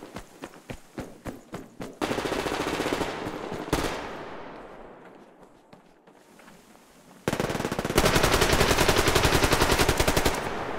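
Gunfire from the online shooter Survarium: rapid single shots, then long sustained automatic bursts that are loud and close, broken by a quieter lull in the middle.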